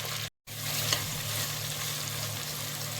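Thinly sliced onions and green chilies fry in oil in a pan for Andhra-style mango fish curry, giving a steady, loud, close sizzle with a faint stirring scrape, after a very short silent break at the start.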